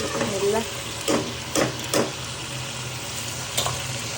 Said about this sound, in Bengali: এখন আমি এর মধ্যে এই যে শাকটা দিয়ে দিচ্ছি।